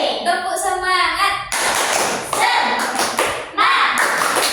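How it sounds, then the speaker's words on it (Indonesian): Children in an Indonesian classroom do a rhythmic group clap, patterned bursts of hand claps and slaps in sequence, with kids' voices chanting along. "Tepuk semangat."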